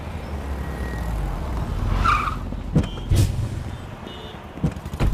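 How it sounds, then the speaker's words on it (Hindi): Car braking hard on a city street in India, a short tire skid rising through the middle, followed by a few thumps, over steady engine and street noise. "Hey, stop the car."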